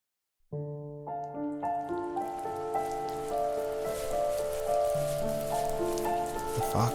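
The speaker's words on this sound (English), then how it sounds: "The rain cascaded onto the Jade Valley where the entrance to the tree was." Steady rain pours onto a valley, a dense continuous patter sounding from just after the start to the end under a layer of tonal music.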